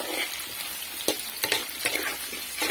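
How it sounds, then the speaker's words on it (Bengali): Food fries in a pan as part of a lentil dish, with a dense, close sizzle and repeated spatula scrapes and clacks stirring through it. "ভেজে নেব এটুখানি ভালোভাবে ভেজে নিই"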